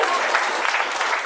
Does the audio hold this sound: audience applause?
yes